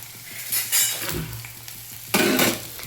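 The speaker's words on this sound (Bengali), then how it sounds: "এর সঙ্গে একটু ভাজা ভাজা করে নেবো।" Onion and garlic fry in hot oil, with bursts of loud sizzling as the pieces go in and get stirred, plus light clinks of a utensil against the pan; no talk.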